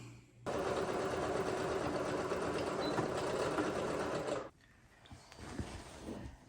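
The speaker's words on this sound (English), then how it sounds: "Let's get to sewing." A sewing machine stitches velour shirt pieces for a gold raglan shirt, whirring in one fast, steady run for about four seconds before stopping abruptly, leaving a quiet room.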